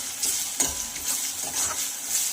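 Chopped onion and tomato sizzle softly in a pan as they cook down, with a steady crackling fry and a few stirring scrapes, quiet and close with no talking.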